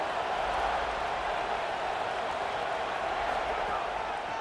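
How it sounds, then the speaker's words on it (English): Home crowd in College Football 27, a dense, steady roar of many voices filling the stadium without letup, with commentary spoken over it. "Now this home crowd making life difficult."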